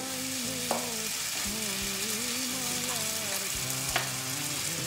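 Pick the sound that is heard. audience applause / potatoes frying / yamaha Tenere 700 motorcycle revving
potatoes frying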